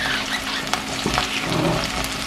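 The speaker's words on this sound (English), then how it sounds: "we're gonna cook our pepper and mushrooms in here" Peppers and mushrooms sizzle steadily in a hot oiled pan, with close, continuous frying crackle and a few soft stirring knocks, no talking.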